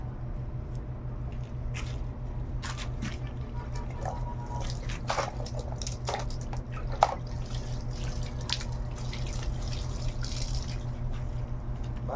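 Water drips and trickles steadily from laundry wrung out by hand, with soft irregular splashes over a low continuous hum.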